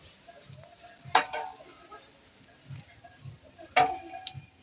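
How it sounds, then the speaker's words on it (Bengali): Soft young hog plums (amra) being cut with a knife: a few sharp, isolated taps of the blade against a board, spaced seconds apart over a quiet, faintly ticking background. "এবার আমি আমড়াগুলো কেটে নেব।"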